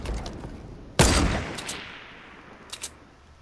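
A single loud gunshot from a shooter video game cracks out and decays, followed by fainter distant shots and a quiet pair of pops near the end.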